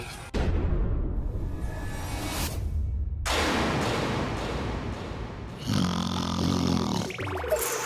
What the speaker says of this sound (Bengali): এত জনে নাক ডাকলে তো ঘরের বাইরে কেন, বাড়ির বাইরে থেকেও শোনা যাবে